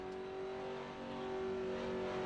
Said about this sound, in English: You're revving the crap out of it and you're just throwing shit everywhere, like you're just spinning the wheels